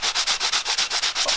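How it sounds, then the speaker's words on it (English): A sanding pad rubs surface rust off the back of a golf wedge club head in quick, even strokes, a close, loud, rhythmic scratching about every tenth of a second. "this is where the sanding pad comes in very handy"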